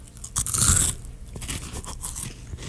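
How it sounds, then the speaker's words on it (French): Crunchy bites into Harvest Snaps Snapea Crisps, a baked pea snack, with a loud crunch near the start followed by softer chewing crackles, close up and with no talking. "Es-tu prêt à croquer dans ton pois?"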